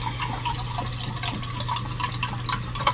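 Vinegar poured into a pot of fish head and eggplant stew, a steady close liquid splashing and trickling for a few seconds over a low hum.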